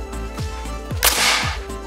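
A homemade hairspray-powered bottle launcher fires: a single sharp, loud pop with a brief hissing burst, standing out against a quiet background.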